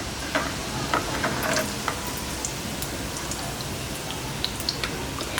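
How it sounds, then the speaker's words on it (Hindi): Shami kababs shallow fry in a little oil in a pan, giving a steady, close sizzle scattered with soft pops and crackles. "देखिए इसी तरह से दूसरे शामी कबाब भी मैं फ्राई कर लेती हूँ"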